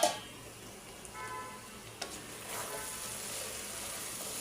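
Mixed vegetables sautéing in a generous amount of oil, a soft steady sizzle with faint stirring scrapes, close and continuous with no talking.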